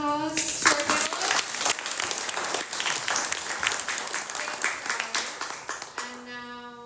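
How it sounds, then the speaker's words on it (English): An audience breaks into steady applause, many hands clapping at once, fading slightly near the end as a tone sounds. "one more time, round of applause to our panelists."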